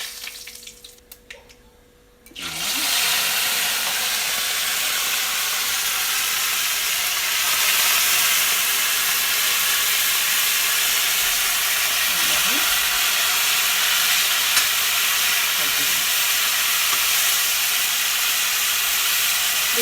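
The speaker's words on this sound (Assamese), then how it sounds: "বিলাহীকেইটা আগতে মই ইয়াত তেলত ভাজি ল'ম।" Whole boiled tomatoes dropped into hot oil seasoned with five-spice seeds, cooked for a knife fish curry with taro. A quiet moment gives way to a loud, steady, continuous sizzle that holds for the rest of the clip.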